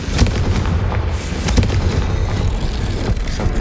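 A Confringo blasting curse detonates in Hogwarts Legacy, a loud, dense rumbling blast with booming impacts that stays heavy and sustained throughout, with no talk over it.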